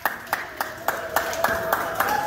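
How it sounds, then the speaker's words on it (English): Rhythmic, unison clapping by children at a camp, about eight evenly spaced claps in a steady beat, fairly close, with a faint voice underneath. "Give him a round of applause."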